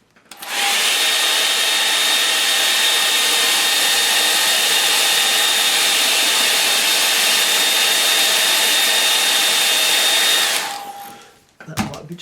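A hair dryer blows steadily on a watercolour painting, loud and close, holding an even whine for about ten seconds before switching off and winding down.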